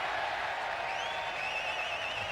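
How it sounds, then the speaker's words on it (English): Cricket crowd clapping steadily at a 1995-96 Test match between Australia and Pakistan, a dense, even wash of applause from a large stadium audience. "The crowd clapping as though it's cleared the rope"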